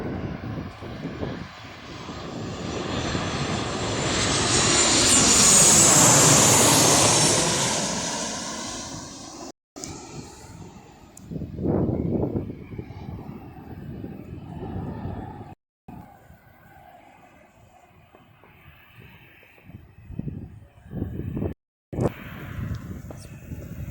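Boeing 737 airliner climbing out after takeoff, a broad jet roar swelling to a peak and then fading into the distance, followed by quieter outdoor background with scattered noises and brief gaps.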